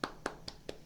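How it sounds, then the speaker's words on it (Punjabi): Four sharp hand claps land in an even rhythm, fairly faint and spaced about a fifth of a second apart, offered for a studio owner at a classical flute gathering. "ਇਹਦੇ ਵਾਸਤੇ ਸਭ ਤੋਂ ਪਹਿਲਾਂ ਤਾਲੀਆਂ"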